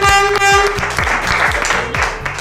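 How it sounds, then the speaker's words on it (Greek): Studio audience applause for Sakis Rouvas on a Greek quiz show, a loud burst of clapping with a rhythmic beat running under it, fairly steady throughout. "Χειροκρότημα δεν έχει για το Σάκη?"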